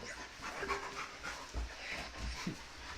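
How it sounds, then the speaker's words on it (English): A dog pants steadily with short whimpers mixed in, close by and moderately loud, filling the room against a low background hum. "My dog is going crazy."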